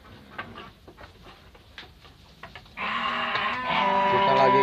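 Goats in a pen bleat loudly and overlapping in the second half, after quieter scattered clicks and shuffling.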